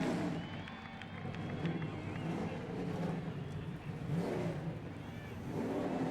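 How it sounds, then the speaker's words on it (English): Trucks at a 2009 NASCAR truck race at Texas start up and rev, a broad engine roar swelling and easing over distant crowd noise while an announcer talks faintly in the background. "The engines are now started"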